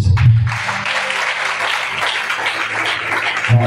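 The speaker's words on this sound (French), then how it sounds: "Est-ce que tu peux acclamer Jésus?" A church congregation bursts into loud, sustained applause and cheering that fills the room steadily, with a low rumble of voices beneath the clapping.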